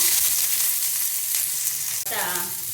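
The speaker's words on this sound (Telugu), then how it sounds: "1 స్పూన్ ఆయిల్ యాడ్ చేసుకుని ఉల్లిపాయలు, టమాటాలు మగ్గించుకుందాం." Onions frying in a spoonful of oil in a pan for onion tomato chutney, a steady, close, continuous sizzle with a brief break near the end and no talk.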